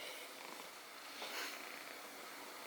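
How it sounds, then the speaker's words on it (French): A male cat purrs loudly right by the microphone, a steady low rumbling hum that continues without pause. "Ça ronronne fort ce beau garçon là"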